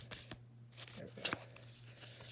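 Oracle cards are shuffled close by in a few quick riffling bursts and soft slides, fairly quiet, with a voice speaking over them.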